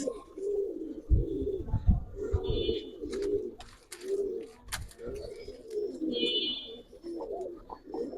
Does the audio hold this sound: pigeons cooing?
yes